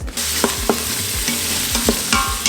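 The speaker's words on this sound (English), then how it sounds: "So you guys can hear it starting to sizzle." Chopped celery and onion sizzle in a hot pan, a steady crackling hiss with occasional scraping stirs and clinks of a utensil.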